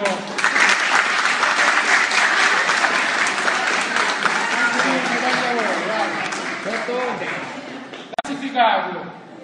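Hearty applause for a prize winner at an awards ceremony, thick clapping from a gathered crowd that thins out as voices and laughter rise over it, ending with a brief knock.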